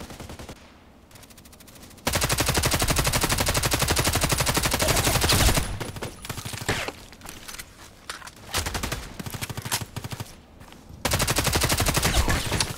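Automatic fire from an HK 243 light machine gun in the online shooter Contract Wars, loud sustained bursts of rapid shots after a quieter opening, with brief pauses between long volleys.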